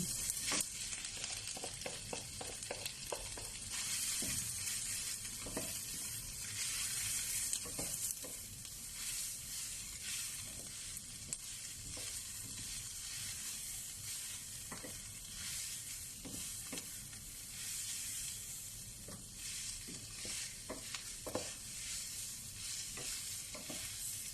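Shredded chicken frying in a pan for a musakhan sandwich, a steady close sizzle with repeated scrapes and taps of the spoon as it's stirred, with no talk.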